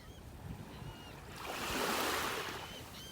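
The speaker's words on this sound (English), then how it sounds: "Listen to the gulls out there flying around." Gulls calling faintly above a beach in North Naples, Florida, their thin cries drifting over a broad swell of surf that rises and falls in the background.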